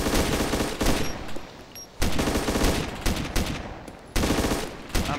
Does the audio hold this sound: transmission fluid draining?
no